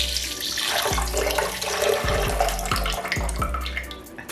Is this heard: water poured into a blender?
yes